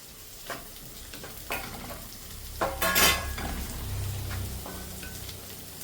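Spring onion leaves frying in a hot pan, a steady close sizzle broken by a few sharp clatters and a louder burst of stirring near the middle.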